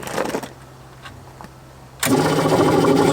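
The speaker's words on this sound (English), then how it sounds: "So I'm going to fill the airbags up right now." An air compressor kicks on abruptly after a quiet stretch and runs with a loud, steady motor hum and rattle while filling the downforce airbags on a John Deere planter.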